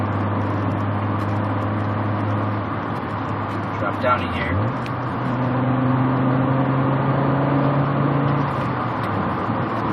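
A 1991 Audi Coupe Quattro cruises along a road with a steady engine drone and road roar from inside the cabin, pitch shifting midway as the gears change, while a voice briefly speaks over it.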